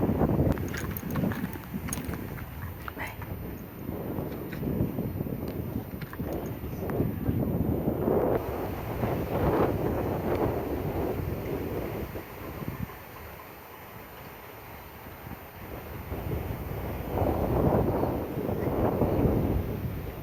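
Steady wind rushes and buffets across the whole stretch at a viewpoint in Calomboyan, Pangasinan, with gusty swells rising and falling and no talk over it.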